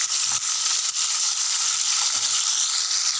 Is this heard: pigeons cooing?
no